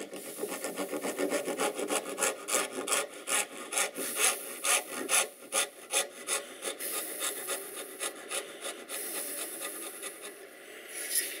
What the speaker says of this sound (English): this is the dovetail saw that I have little to no set left on there